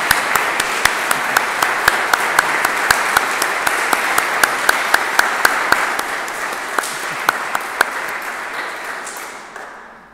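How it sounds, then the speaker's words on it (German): A church congregation applauds together in a dense, steady wash of clapping with scattered sharper claps on top, which fades away toward the end. "Und auch euch wollen wir jetzt einmal mit einem Applaus ganz herzlich begrüßen."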